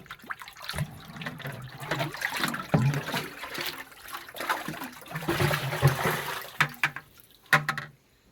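Water carrying a hydroponic nutrient solution is poured out in uneven splashing, gurgling bursts that swell and fade, close by and fairly soft, with no voices.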